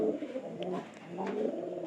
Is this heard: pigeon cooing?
yes